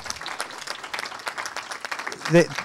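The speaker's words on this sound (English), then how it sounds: "So a huge round of applause, please." An audience claps at a hacker conference talk, a spread of scattered, moderately loud hand claps through the whole stretch, with a voice briefly rising near the end.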